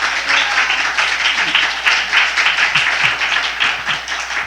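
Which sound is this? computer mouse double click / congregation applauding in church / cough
congregation applauding in church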